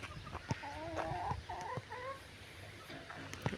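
Domestic geese and their goslings in a farmyard, giving a run of nasal honks and clucking calls at close range, with soft scuffling and a few sharp knocks in between.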